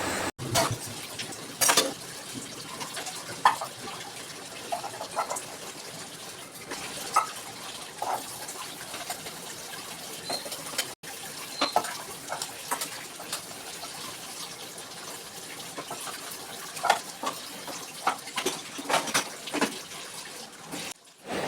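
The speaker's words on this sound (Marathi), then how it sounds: "माझं चालू आहे भांडे घासायचं काम किचन वगैरे साफ करायचं काम" Dishes are scrubbed and rinsed under a running tap in a home kitchen: steady splashing water with scattered clinks and scrapes of pots and utensils, close and continuous.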